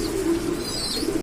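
A male pigeon, sold as a Lahori blue or black Lahori breed, gives a low throaty coo that continues steadily through the short moment, close by and fairly loud, with no voices.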